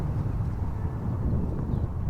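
Constant low wind buffeting outdoors, rumbling and gusty against the microphone, with no clear speech.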